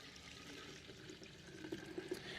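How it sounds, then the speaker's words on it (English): Liquid wheel cleaner poured from a container into a sprayer during a car wash: a faint, steady, soft pour with a few small splashy blips near the end, heard alone and quietly. "Pour this into our clean IK here."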